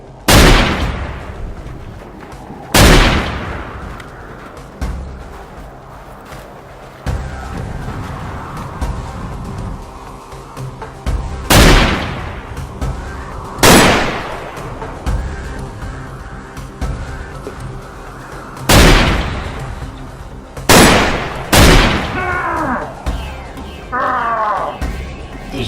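Loud, close gunshots ring out during a shootout, spaced irregularly with several sharp cracks and some paired in quick succession, each followed by a decaying echo over a low background rumble.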